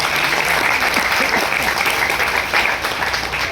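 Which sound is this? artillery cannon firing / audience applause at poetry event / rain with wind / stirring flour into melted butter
audience applause at poetry event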